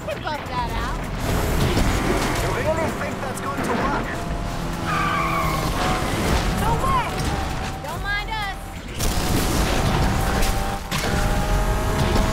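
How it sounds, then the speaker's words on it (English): A car drifts in the racing game Need for Speed Unbound. Loud, sweeping tire squeals and skidding sit over a steady engine roar, with a voice talking over parts of it. "I did not mean to drift like that"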